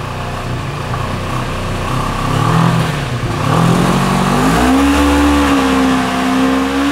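A Seiemmezzo SCR 6.5 scrambler motorcycle engine revving hard, its loud buzzing drone climbing in pitch in two surges before holding high and steady, close up and continuous with no talk.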